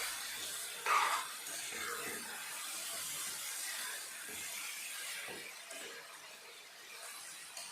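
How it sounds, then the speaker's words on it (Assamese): Mutton frying in a pot on high flame, a steady broad sizzling hiss with a brief louder spit early on and faint stirring scrapes, close and continuous with no talk. "মাংসখিনি এবাৰ ভালদৰে মিক্স কৰি লৈছোঁ আৰু 10 মিনিটমানৰ কাৰণে এতিয়া হাই ফ্লেমত ৰাখি দিম।"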